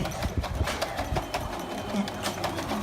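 A sewing machine stitches a pleat in fabric with a rapid, rhythmic clatter of the needle. The sound is close and moderately loud, with no talking.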